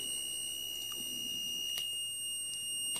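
A fire alarm repeater panel signalling a fault with a steady, continuous electronic buzzer tone, faint and unbroken, with small clicks and taps now and then.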